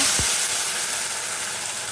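Peeled, boiled and ground tomato paste sautés in hot oil for a Kongu tomato chutney, making a loud, steady sizzle and hiss that carries unbroken from start to finish, with no voices.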